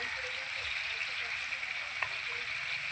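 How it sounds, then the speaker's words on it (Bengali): Spices and vegetables fry in a pan for a katla fish curry with green banana and kohlrabi, giving a steady, soft, continuous sizzle close up with no pauses. "এবার আমি মশলাটাকে কষিয়ে নেব সবজির সঙ্গে"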